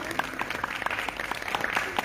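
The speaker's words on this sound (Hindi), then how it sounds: "यस, तालियां, जोरदार तालियां।" Applause at a live yoga session as a guest is called up to present a trophy, a scattered run of hand claps mixed with a voice talking over it.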